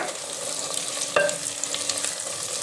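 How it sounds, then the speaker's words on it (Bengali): Browned onion fries with ginger, garlic and chili pastes in a pan, giving a gentle steady sizzle with a sharp utensil clink and a few stirring scrapes, close and quiet. "একটু ভেজে নেব।"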